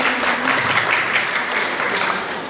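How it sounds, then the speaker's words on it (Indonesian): Students at a school extracurricular first-aid session clap together in a steady, moderately loud burst of applause lasting a couple of seconds. "tepuk tangan untuk semuanya"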